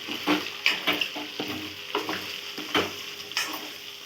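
Chicken pieces frying in a pan, stirred now and then, with steady sizzling and repeated scraping or stirring sounds at close range, no talking.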